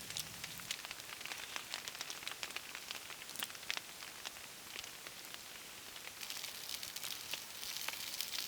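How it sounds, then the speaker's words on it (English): Steady rain drums on a tarp over a bushcraft camp, a dense continuous patter with distinct heavier drops ticking through it and no voices. "Sounds lovely on the tarp, doesn't it? It's such a good sound."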